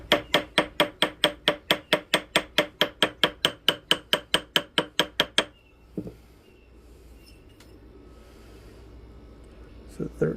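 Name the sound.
ball peen hammer sizing a gold ring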